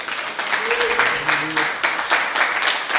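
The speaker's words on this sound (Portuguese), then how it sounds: "Pode dar um aplauso ao Senhor Jesus?" Church congregation applauding in praise to Jesus during a worship service, a steady wash of many hands clapping with a few voices and cheers rising over it throughout.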